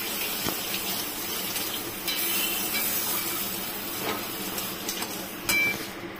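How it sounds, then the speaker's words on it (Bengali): Paneer kofta curry gravy bubbling and simmering in a pan, a steady wet bubbling hiss with a few soft clinks, close and alone. "আমার গ্রেভিটা পুরো ফুটে গেছে"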